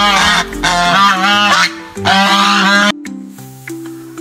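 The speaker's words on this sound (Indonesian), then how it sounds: "Swan." A swan gives loud, nasal honking calls in repeated drawn-out bursts with short pauses between them, close and clear over a soft musical background.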